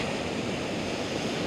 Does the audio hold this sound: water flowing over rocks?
yes